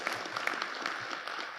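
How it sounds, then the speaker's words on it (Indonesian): An audience at a regional Indonesian doctors' association assembly in East Java claps together, a dense, even patter of many hands heard from a moderate distance. "Tepuk tangan untuk semuanya."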